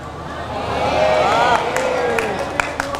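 An audience claps and murmurs during a religious sermon on charity, a crowd wash that swells and then fades, with a few sharp individual claps near the end and voices mixed in.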